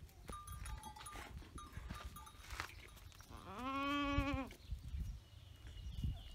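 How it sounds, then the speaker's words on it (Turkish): A goat in a small Turkish village near Akşehir gives one clear, drawn-out bleat at moderate distance, set against faint outdoor background rustling and no talking. "Koyun değil, keçi pardon. Keçi."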